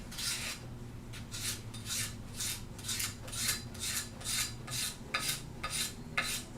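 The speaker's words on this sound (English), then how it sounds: "I basically have been taking a piece of 60 grit sandpaper on a dowel and using that" A dowel wrapped in 60 grit sandpaper rasps back and forth in a steady rhythm of about a dozen close, gritty strokes. No one speaks.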